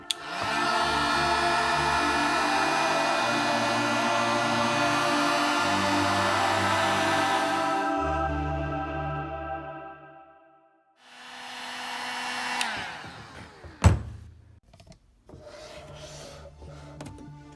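A heat gun blows steadily and loudly on a 2014-or-later GMC Sierra permaseal headlight, with a harmonic motor whine. It cuts out around eight seconds, followed by handling clatter and a sharp knock.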